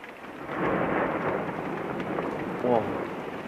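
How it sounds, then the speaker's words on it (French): A rumbling roll of thunder from a violent, highly electric March storm near Carpentras, France, sustained and moderately loud across the span with a brief sharper burst near the end, steady rain hiss beneath. "les coups de tonnerre sont modérés pour l'instant"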